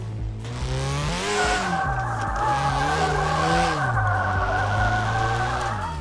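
A turbocharged car drifting in Drift21, its engine notes rising and falling as the tires squeal in long continuous slides, loud and close with no voices.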